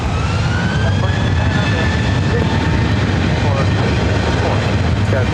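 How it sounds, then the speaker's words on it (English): A Southwest jet on its takeoff roll from LAX runway 24 right makes a loud, continuous broadband roar that holds steady, with a faint high engine whine running through it, heard from nearby. "Runway 24 right, clear for takeoff"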